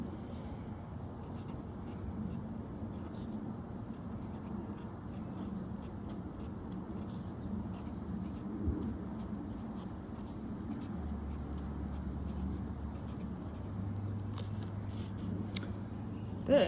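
Fountain pen nib scratching across paper with Robert Oster Gold Antiqua ink, a soft steady scratching of strokes, faint and close, with low background hum and no talk.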